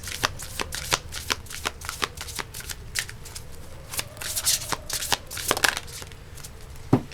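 Oracle cards from the Master Teacher Crystal Oracle deck being shuffled by hand, a close run of crisp riffling flutters and soft slaps repeating unevenly, loud and alone with no talk.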